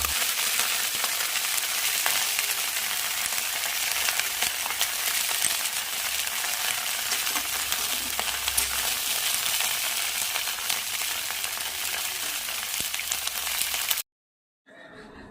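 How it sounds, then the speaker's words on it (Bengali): Cauliflower florets fry lightly in hot oil in a pan, giving a steady, dense sizzle that runs loud and continuous for about fourteen seconds before cutting off abruptly, followed by a short quieter stretch. "ফুলকপিগুলো ভেজে উঠিয়ে নিয়েছি, এরকম হালকা করে ভেজে"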